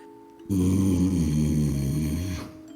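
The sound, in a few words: voice imitating a growl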